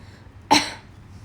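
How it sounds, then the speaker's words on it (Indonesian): A single sudden, harsh choking cough bursts out close to the microphone in a quiet room, short and alone with no talking around it. "Tiba-tiba aku keselak."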